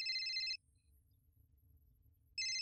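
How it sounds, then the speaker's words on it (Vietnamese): A telephone rings in two bursts, a loud electronic ring at the start and another at the end, separated by a low, quiet room hum. "Điện thoại kìa."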